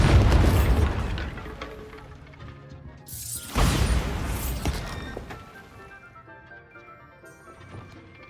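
A Bombarda spell explodes in Hogwarts Legacy, a loud booming blast at the start and a second sharp crash a few seconds later. Both bursts decay into a rumbling, crackling tail with fainter debris sounds, and no voices are heard.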